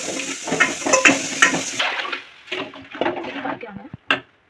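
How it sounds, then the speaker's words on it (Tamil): Mustard seeds, onion and curry leaves tipped into a hot pan, giving a clatter of utensils and a brief sizzle that fades to a few sparse metallic knocks, with people talking nearby. "கடுகு வெங்காயம் போடுறோம். கருவேப்பிலை போடுறோம் கொஞ்சோன்னு."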